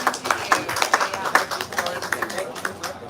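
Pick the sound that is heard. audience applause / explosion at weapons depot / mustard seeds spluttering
audience applause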